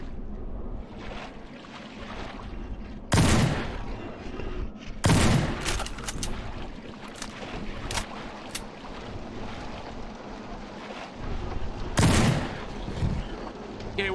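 Shotgun fire in the horror video game Fobia: St. Dinfna Hotel, heavy booming blasts spaced several seconds apart, with several sharper cracks between them, all over a constant low ambient hum.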